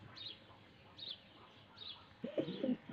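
Pigeons in a yard: a few faint high chirps repeat at roughly one-second intervals, then a louder, closer low cooing call rises near the end.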